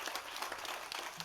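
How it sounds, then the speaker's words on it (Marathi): Audience at a Marathi kirtan clapping together in a brief burst of rapid, fairly faint applause. "जोऱ्यात टाळी वाजवा"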